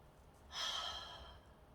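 A single forced exhale from a Hado breathing exercise rushes out as a breathy sigh, close and moderately loud, over a low steady room hiss.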